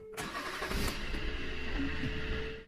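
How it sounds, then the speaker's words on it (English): A diesel car engine with glow plugs cranks briefly, catches and settles into a steady idle. The sound is moderately loud and close, with no voices, and comes during a Konnwei 510 diagnostic scanner test. "Start the engine."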